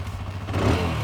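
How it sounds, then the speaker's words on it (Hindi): A TVS Apache 160 motorcycle engine idles steadily, a low, even hum that grows slightly louder partway through the short stretch, with no talking. "आइडियल कंडीशन पर इंजन साउंड सुनिए 160 की।"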